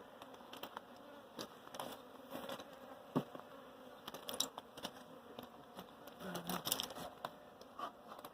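Honeybees buzzing around an open hive, a close, continuous droning hum with individual bees swelling in and out, plus a few soft taps and rustles of handling, with no talking.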